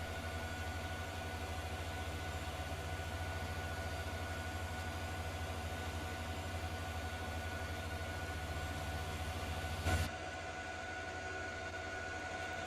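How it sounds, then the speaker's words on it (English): A tractor engine drones steadily in Farming Simulator 19 while a seed drill adds a thin, constant whine on top. The sound is continuous and even for most of the stretch, with a brief burst near the end before it settles quieter. "Actually, you can hear the whine of the drill over the engine noise."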